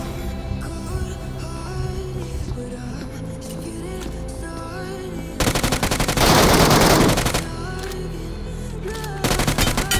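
Rapid bursts of automatic gunfire in the mobile battle royale game BGMI, loud and close, with a long sustained volley midway and another short burst at the end, layered over steady in-game ambient tones.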